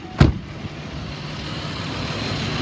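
A 2010 Ford Explorer XLT 4x4 engine runs steadily at a low hum after a brief thump at the start, a continuous, fairly quiet drone with no one talking.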